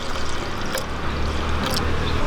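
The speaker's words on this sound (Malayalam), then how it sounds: "ആവശ്യത്തിന് വെള്ളം ഒഴിച്ചു കൊടുക്കാം" Water is poured into a pot of lentils for a Kerala-style parippu curry, making a steady, close, fairly loud gushing pour with a few brief splashy bursts.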